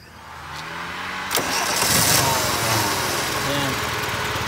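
A Toyota Big Body engine, just retuned for ignition timing, cranks briefly and catches with a sharp burst, then settles into a steady, slightly sluggish idle recorded up close.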